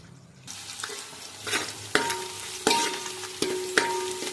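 Onions and green chillies fry in a pan, a steady sizzle broken by several sharp scraping stirs of a utensil at regular intervals, close and fairly loud, with no voices.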